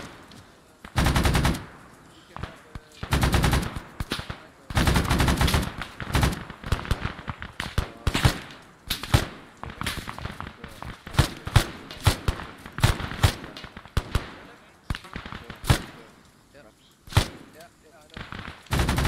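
Gunfire from an Arma 3 Unsung Vietnam battle: loud, dense bursts of automatic fire and single shots, repeating near and steady through the whole stretch, with voices shouting between volleys.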